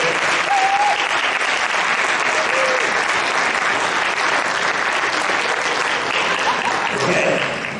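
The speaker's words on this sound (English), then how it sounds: "So again, nice round of applause for them." Theatre audience giving a sustained round of applause for an acting troupe and orchestra-pit musicians, dense and loud for several seconds before tapering at the end.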